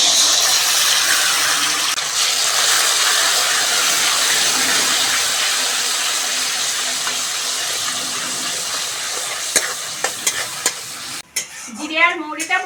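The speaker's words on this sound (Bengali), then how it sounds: "জিরে আর মৌরি বাটাটাও তেলের মধ্যে দিয়ে দেব।" Cumin and fennel paste with five-spice tempering frying in hot mustard oil, a loud steady sizzle with stirring scrapes, ending in a brief burst of clatter and bubbling.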